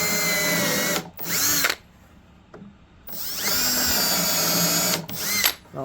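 Power drill driving screws into a wooden workbench top, two long whirring bursts of several seconds each with short stops and restarts between them, loud and close, no talking.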